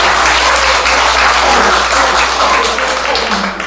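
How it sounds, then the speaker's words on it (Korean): Church congregation at a Sunday worship service applauding together, a dense, steady wash of many hands clapping that holds at full loudness throughout. "박수 한번"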